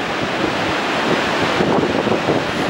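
Tide waves rush under the Grand Pier, a loud, continuous roar of surf with heavy wind buffeting the microphone and no talking.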